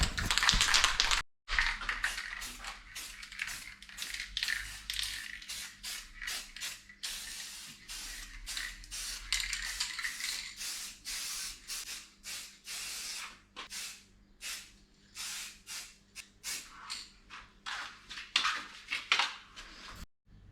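A chrome rattle can sprays in bursts onto headliner bows for a 1951 Chevy, with a long hiss at first, then a run of short spurts and can clicks, close and fairly loud.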